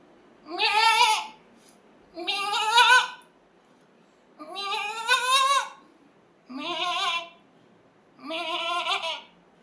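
A human voice imitates a goat bleating, five separate wavering bleats spaced a second or two apart, close and clear against near silence.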